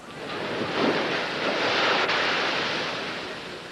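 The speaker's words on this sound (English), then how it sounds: "Crashing waves and torrential rains teamed up to make one miserable day along the Jersey coast." Heavy surf crashes steadily along the Ocean City, New Jersey shore in torrential rain, a loud continuous roar of breaking waves with wind hiss and no voices.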